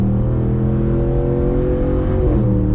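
A 2019 Ram Rebel pickup truck with an AWE exhaust accelerates, its deep engine drone building steadily and loud with a rising rev near the end, heard from inside the cab.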